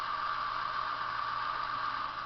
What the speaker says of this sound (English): the typical DMU engine sound.